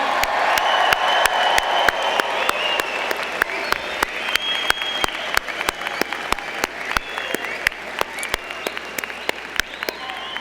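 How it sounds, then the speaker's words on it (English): A large commencement crowd claps and cheers for graduates in a university hall, dense continuous applause with sharp individual claps standing out near the front, sustained for about ten seconds. "let's give a round of applause to our graduates. Everyone, come on, make some noise."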